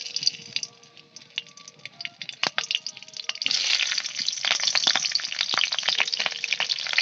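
Green and broken dried chillies drop into hot oil in a wok, sparking a crackling sizzle that swells to a dense, steady fry with scattered sharp pops, close and fairly loud.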